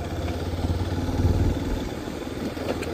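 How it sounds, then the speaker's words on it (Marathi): A motorcycle rides along a hilly ghat road below ridges lined with windmills, its engine a steady close mid-pitched drone that swells slightly midway and carries on with some clatter, with no talking. "सुंदर अशी बाईक राईड होते."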